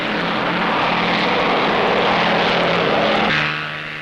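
A propeller engine drones steadily and loudly from a KLM Douglas airliner flying in an air race, holding a constant roar before easing slightly toward the end.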